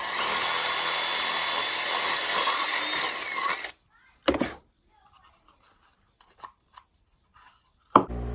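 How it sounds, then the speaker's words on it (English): A power drill whines steadily as it bores through PVC for several seconds, then stops, leaving a few faint clicks and handling noises. "Let's go ahead and drill all the way through."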